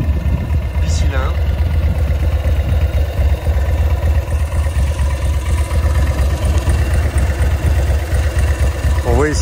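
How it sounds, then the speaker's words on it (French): A Morgan Three Wheeler's twin-cylinder engine idles with a steady low chugging throb, close and continuous, while a voice talks over it. "Fameux moteur SNS bicylindre."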